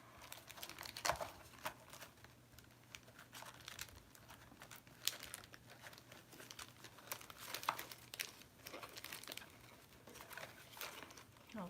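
Paper crinkles and rustles at close range as Christmas gift wrapping paper is cut and handled, with irregular soft crunches and occasional scissor-like snips, fairly quiet with no talking.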